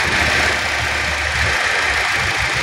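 A Toyota Altis engine idles roughly with a faulty high tension wire, a steady close rumble with an uneven low throb.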